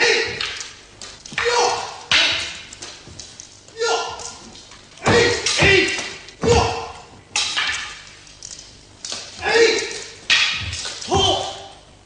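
Swords strike in Katori sword kata practice with a series of sharp clacks, several of them spaced a second or two apart, while voices ring out between and over the blows.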